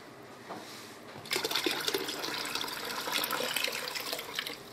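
More dirty water is poured through a white sieving cloth into a bucket, starting as a faint trickle and then becoming a fuller, steady splashing pour up close.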